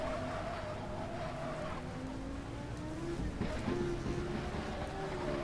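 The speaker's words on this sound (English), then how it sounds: "almost a turbo engine, first generation with a lot of lag" A race car engine with first-generation turbo lag drones steadily at moderate volume in the GTR2 racing simulator at Okayama International, its pitch climbing slowly as it builds revs over wind-like noise.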